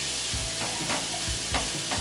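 Beef steak fries in a pan for steak fried rice, giving a dense, continuous sizzle with soft stirring scrapes underneath, close and even throughout.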